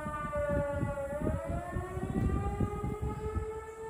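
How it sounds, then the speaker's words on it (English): A long, steady World War II-era air raid siren being tested as a tornado siren on a golf course drones with a slowly rising pitch, distant and sustained, with low rumbling noise underneath. "Those are air raid sirens left over from World War II."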